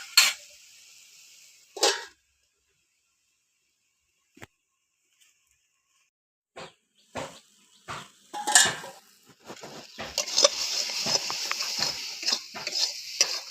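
A metal lid set onto a pot of tomato chutney cooking with salt, giving two sharp clanks near the start, then a pause before quieter clatters and a soft sizzle.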